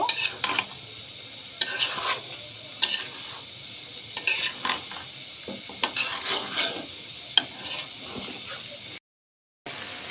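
Olive pickle being stirred in oil in a wok, with repeated scraping strokes against the pan over a steady low sizzle, close and fairly loud, stopping briefly near the end.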